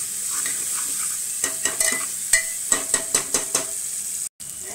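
Spices and red chilli powder frying and being stirred in a pan for dal batti, a steady hiss of sizzling oil with a series of sharp spoon scrapes and taps against the pot, close and loud, no voices.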